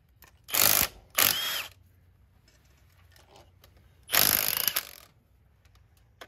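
A ratchet loosens bolts on a Detroit Diesel 60 series engine in three loud, rapid clicking bursts: two short ones close together, then a longer run after a pause, with faint metallic clinks in between.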